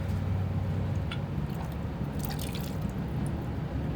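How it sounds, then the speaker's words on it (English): Antifreeze drips and splatters irregularly from a leak on a car over a constant low hum, with a brief cluster of wet trickling sounds nearby. "I'm gonna do this here because it's still leaking all over the place"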